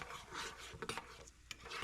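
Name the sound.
nuts and lentils frying in ghee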